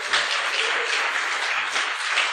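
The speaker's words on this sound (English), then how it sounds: "so give them a round of applause" Steady audience applause fills the room at a business event announcement, a dense continuous wash of many hands clapping at moderate loudness without any talk.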